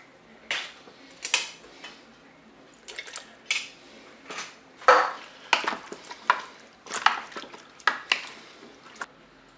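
Potatoes, courgettes and a can of peeled tomatoes are tipped into a Cookeo pressure cooker pot, with a run of close clattering, scraping and stirring knocks and soft wet plops, no talking.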